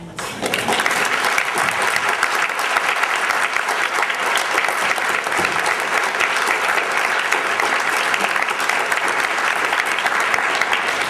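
Sustained, loud applause from a graduation-ceremony audience in 2013 for two committee members, a thick continuous roar of many hands clapping without pause for the whole stretch.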